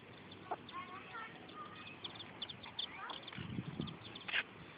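Small chicks peep and chirp faintly outdoors in short, scattered calls, mixed with quiet background voices and low rustling.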